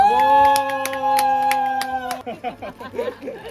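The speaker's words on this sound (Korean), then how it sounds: "박수!" Several people at a drinking dinner clap in a quick rhythmic run under a drawn-out sung voice, the claps stopping as lively talk and laughter take over.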